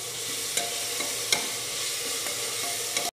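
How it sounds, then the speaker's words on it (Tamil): Ginger garlic paste sizzles and fries steadily in a hot pan, with a few sharp clinks of a spoon stirring against the metal. "இந்த பச்சை சுமல் போகிற வரைக்கும் நல்லா வதக்கி எடுத்துடலாம்."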